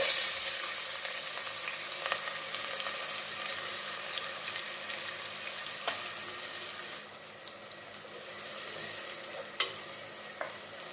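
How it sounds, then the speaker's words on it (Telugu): Sliced large onions fry in hot oil for a chicken curry, giving a steady close sizzle with a few faint clinks of stirring that eases slightly partway through. "ఇప్పుడు నూనె కాగింది కదండి, ఇందులో ముందు పెద్దుల్లిపాయలు వేసేసుకుందాం."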